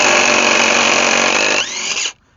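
VTEK V6309R cordless impact wrench running near and loud, a sustained high whirring hammer that shifts pitch briefly near the end before stopping abruptly.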